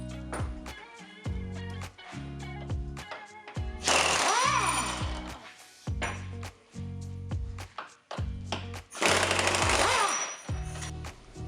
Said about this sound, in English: Start by removing the 3 body mount bolts.